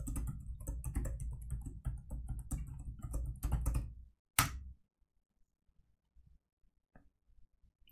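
Rapid typing of a password on a computer keyboard while booting Ubuntu MATE 19.10, a close, steady run of clicky keystrokes for about four seconds, ending in one firm key press, then near silence with a couple of faint taps.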